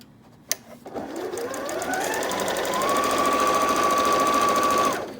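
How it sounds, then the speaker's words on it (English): A sewing machine stitches a seam while turning a corner on fabric, starting with a sharp click and then running as a steady, close, continuous whir with a rapid rhythmic needle chatter for about four seconds before stopping. "I want to sew up this seam as well"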